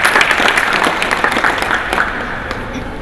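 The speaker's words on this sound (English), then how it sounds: "Please applause for them." Loud, sustained applause from a crowd at an art exhibition opening, a dense, even wash of clapping hands that holds steady for the whole stretch.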